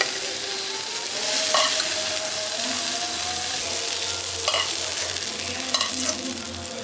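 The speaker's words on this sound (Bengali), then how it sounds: "ঢ্যাঁড়সটা এখানে ভাজা হয়ে গেছে। এবার ঢ্যাঁড়সগুলো তুলে নিচ্ছি।" Okra frying in hot oil for a Bengali poppy and mustard okra curry, a steady close sizzle with occasional spatula scrapes and clinks as the pieces are lifted from the pan.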